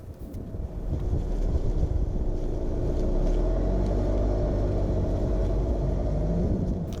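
A Range Rover Velar drives over rough grass terrain in its grass, gravel and snow mode, a steady low rumble of tyres and body noise mixed with wind buffeting, continuous and without speech.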